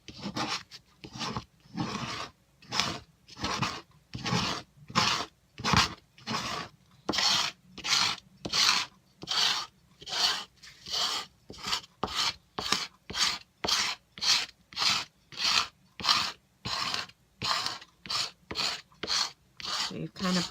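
A scraper drags liquid cleaner across a cutting mat in quick repeated strokes, each a rasping swipe, steady and close, about two per second with short gaps between.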